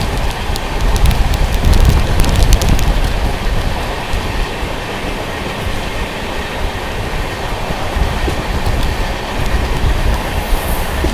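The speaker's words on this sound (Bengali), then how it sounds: "আমাদের ট্রেনটা এখন তালিত রেলওয়ে স্টেশনে ঢুকছে" Gurumukhi Superfast Express rolls into Talit railway station, heard from on board as a loud continuous rumble of wheels and carriages with faint rhythmic clatter, easing slightly partway through.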